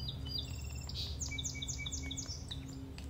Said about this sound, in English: Just their chirping and the smooth flow of the water.